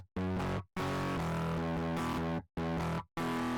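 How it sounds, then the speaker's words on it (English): A synth riff built in SynthEdit is pushed through heavy distortion, giving loud, dense, buzzing sustained chords in a few bursts with brief silent gaps between them, with no voices. "because there's so much distortion, so much harmonics"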